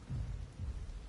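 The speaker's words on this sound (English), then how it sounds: "It's raining." Rain falling with low thunder rolling in the video game Path of Titans, a soft steady patter under a dull rumble that swells twice, quiet and with no talking.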